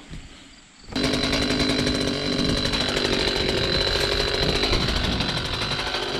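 A chainsaw kicks in after a quiet second and runs loud and steady, cutting through tree branches during trimming, with a constant high whine and no talking.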